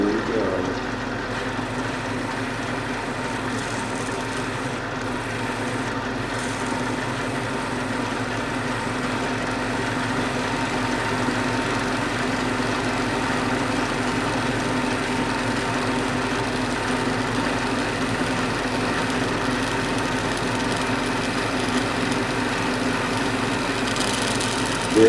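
A spinning drilling machine bores through a stone bead with a constant, close motor drone and a whirring tone that holds steady without pause for the whole stretch.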